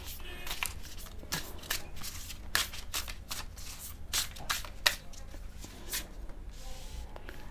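A deck of oracle cards is shuffled close by, a quiet run of crisp riffling and flicking card snaps in uneven bursts over faint background hiss.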